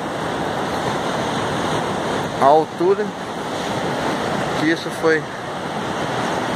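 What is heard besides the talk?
sea waves crashing against the shore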